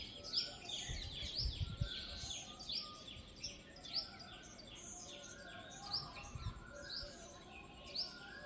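Morning birdsong after a light drizzle outdoors: repeated bright chirps and calls from several birds at moderate distance, fairly quiet, with a soft low rumble underneath and no talking.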